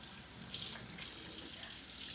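A kitchen tap runs in a steady, close rush of water into the sink, getting a little fuller partway through and carrying on evenly with no talking.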